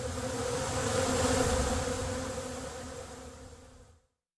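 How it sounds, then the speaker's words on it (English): Loud, close buzzing of many bees fills the air as one continuous drone, steady at first and then slowly thinning before cutting off abruptly. "It's all the bees."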